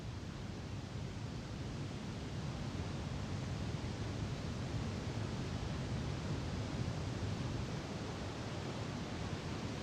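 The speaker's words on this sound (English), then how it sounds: "the river cascades hundreds of feet over waterfalls" Yellowstone River cascading over waterfalls in its canyon, a steady broad rushing roar with no breaks, distant and soft.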